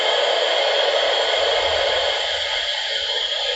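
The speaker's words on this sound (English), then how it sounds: "it just sounds like white noise. Oh, pink noise it says." Pink noise test signal from Linux speaker-test, a steady broadband hiss filling the whole stretch at constant loudness, alone with no voices.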